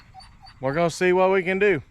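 A pet dog whines nearby with drawn-out, pitch-sliding cries during roadside work on a Jeep, overlapping a man's speech.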